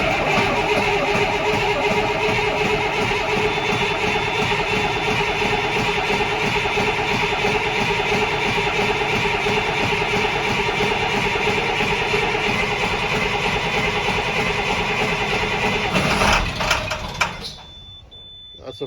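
Rebuilt International 466E diesel engine cranking and catching, with a loud, dense, steady mechanical roar held close for a long stretch before it cuts off abruptly and fades into near quiet.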